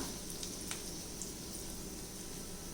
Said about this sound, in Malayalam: എന്നിട്ട് ഇതിനെ നമുക്ക് എണ്ണയിലിട്ട് വറുത്തെടുക്കാം.